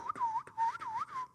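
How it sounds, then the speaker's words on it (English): Someone whistles a quick, wavering tune in short swooping phrases, close and fairly quiet, with no talking. "Hey, I can whistle again."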